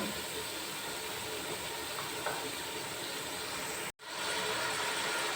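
Carrots and green chilies frying in hot oil in a pot, a steady broad sizzle and hiss throughout, briefly cut by a sharp dropout near the end before the sizzling resumes at the same level.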